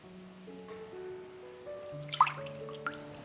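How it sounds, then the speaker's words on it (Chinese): Whites being separated from the yolks of large shell-on eggs for a chocolate Swiss roll give one brief, soft drip and plop over steady background music. "分离蛋白和蛋黄"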